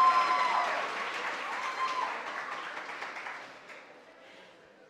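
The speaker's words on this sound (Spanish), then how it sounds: "Un fuerte aplauso para Andy Acosta." Audience applause for a participant at a regional final of a national oratory contest, a dense wash of clapping that starts loud and slowly fades away over several seconds.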